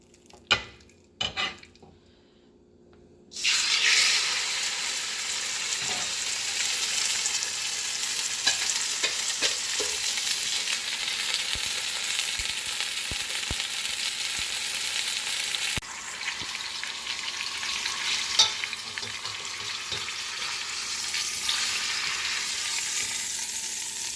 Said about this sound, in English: sear this pork butt